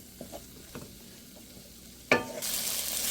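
Prawns go into a hot pan and burst into a loud sizzle partway through, after a few quiet scrapes and taps of stirring; the frying then holds steady and close.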